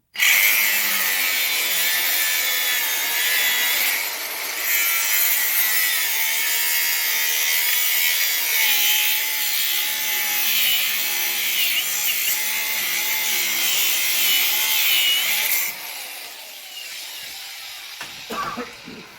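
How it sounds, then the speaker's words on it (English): A power saw cuts through a stem clamped in place during grass drag race preparation. The loud, continuous buzzing grind holds steady for about fifteen seconds, then stops, followed by a few faint knocks. "we're just gonna clamp this in here and get it cut right off"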